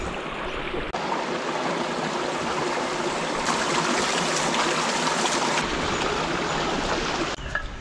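A river stream in Palawan flows steadily nearby, producing an even, rushing water sound with no talk over it.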